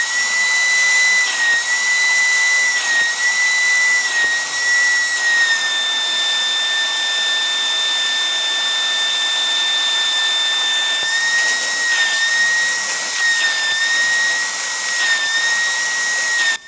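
A Silvercrest 20V SPRA 20 A1 cordless upholstery and carpet cleaner runs steadily and loudly, a continuous motor whine with a high tonal pitch that shifts slightly, without pause throughout.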